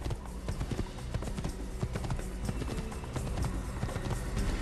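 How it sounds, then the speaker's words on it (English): A horse's hooves clip-clop in the Assassin's Creed video game. The hoofbeats come in a steady, brisk rhythm of close, loud clops over a continuous mix of game sound throughout. "I'm on a horse."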